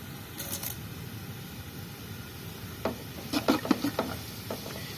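Whole cinnamon, cloves, green cardamom and bay leaf frying in hot oil, a soft steady sizzle with a few louder stirring scrapes and clatters toward the end.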